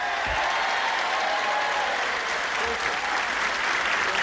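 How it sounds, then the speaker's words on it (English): Studio audience applause on a 1984 Match Game-Hollywood Squares Hour game show: a dense, steady wash of clapping from a large crowd that holds at an even, loud level throughout. "I see you got a brisk round of applause from all the winos in the studio audience here"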